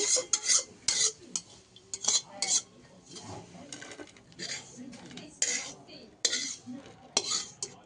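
Cooked beans are moved from a pan onto a plate with a metal utensil, giving repeated scraping clinks and taps against cookware in an irregular rhythm, with a faint voice at times.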